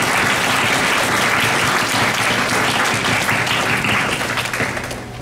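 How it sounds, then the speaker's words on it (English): Audience applauding at a school board meeting, dense sustained clapping from many people in a room, tapering off slightly at the end. "ask everyone to please give them a big round of applause"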